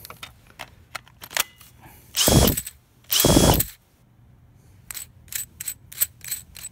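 Makita impact driver with a brake motor, whirring loudly in two short bursts of about a second each that cut off sharply as the brake stops the spin, between light mechanical clicks and handling taps.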